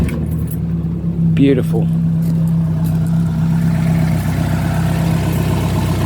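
A 40-year-old engine, just rebuilt with a reworked crankshaft, cranks briefly and then catches into a smooth, steady idle that carries on at close range, with a single short spoken word over it.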